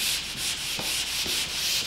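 Carbide-grit fiberglass screen sanding drywall over a switch box: steady, close abrasive rasping in a continuous back-and-forth rhythm, with a few soft knocks, no voices.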